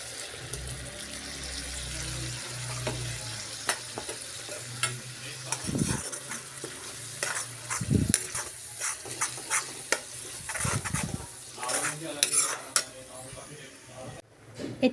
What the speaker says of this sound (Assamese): ইয়াত এতিয়া মই বিলাহী পেষ্টটো দি দিম।